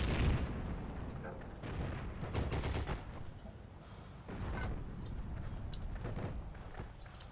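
Anti-tank mine explosion in the World War II shooter Heroes and Generals: loud, heavy booms and rumbling blasts with sharp gunfire cracks close by, no speech.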